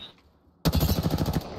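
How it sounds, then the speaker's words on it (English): Gunfire in a shooter video game, a loud burst of rapid automatic shots starting abruptly after a brief quiet moment and running in quick succession to the end. "We're shooting."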